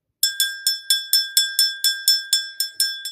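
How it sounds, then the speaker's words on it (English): A bell rung during a tarot reading, about a dozen bright metallic strikes in a steady rhythm, each ringing out with sustained tones before the next hit, close and clear with no talking. "Let's ring this bell."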